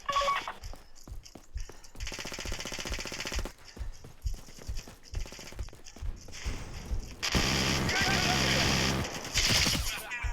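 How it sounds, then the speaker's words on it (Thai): Bursts of automatic gunfire in the mobile shooter game Fire Front, repeated volleys with mechanical clicks between and a heavy sustained stretch near the end; loud and close, with a voice briefly heard among the shots. "ใครยิงวะ"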